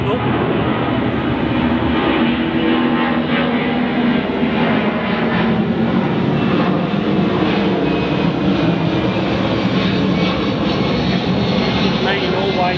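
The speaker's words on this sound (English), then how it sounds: "Let that plane go." An airplane passes overhead from a nearby airport, a loud, steady broadband roar filling the whole stretch while a person talks underneath.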